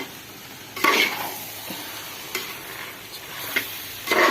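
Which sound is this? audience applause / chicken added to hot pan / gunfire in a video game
chicken added to hot pan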